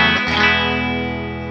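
A single electric guitar chord rings out with a thin, hollow, phasey out-of-phase pickup tone and effects, sustaining and slowly fading.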